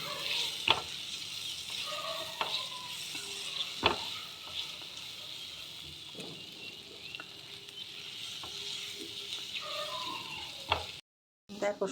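Black pepper and green chillies stir-fry in a pan for crispy prawns, a soft continuous sizzle broken by several sharp clacks of a spatula against the pan, close and alone, with a brief dropout near the end.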